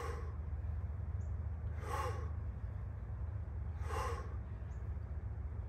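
Heavy breathing during a weighted squat workout, with two audible breath bursts about two seconds apart over a steady low background hum; no talking.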